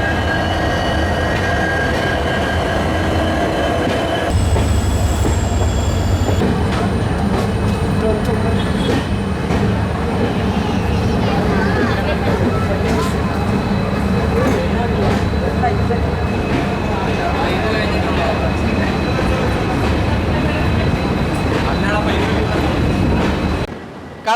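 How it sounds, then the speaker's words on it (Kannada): Karwar–Yesvantpur Express pulling into Subrahmanya Road railway station, a steady loud rumble of rolling carriages with wheel noise and brief high squeals, continuing alongside speech throughout. "ಕಾರವಾರ ಯಶವಂತಪುರ ಎಕ್ಸ್ಪ್ರೆಸ್ ಇವಾಗ ಎಂಟರ್ ಆಗೈತ್ರಿ ಸುಬ್ರಹ್ಮಣ್ಯ ರೋಡ್ ರೈಲ್ವೆ ಸ್ಟೇಷನ್ಗೆ"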